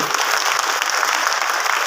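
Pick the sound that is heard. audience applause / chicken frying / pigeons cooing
audience applause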